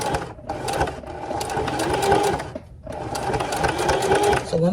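A sewing machine runs loud and close, stitching fabric for a lap zipper in a steady mechanical whir, pausing twice briefly before resuming.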